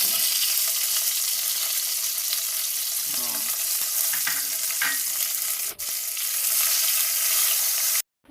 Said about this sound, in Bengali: এর মধ্যে আছে গোটা গরম মশলা, তেজপাতা, শুকনো লঙ্কা ফোড়নে দেবো